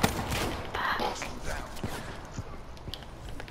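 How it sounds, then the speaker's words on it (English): Rapid gunfire in a first-person shooter video game, a flurry of sharp shots and bursts in close succession, loud and near. "I actually missed the first shot"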